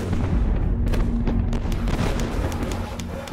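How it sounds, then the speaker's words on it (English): Cannon artillery barrage in a Napoleonic battle scene, heavy booms and blasts rolling continuously under a dense, rumbling wash of battlefield noise. "Napoleon gathers every available gun to blast the Austrians, who fall back under a withering barrage."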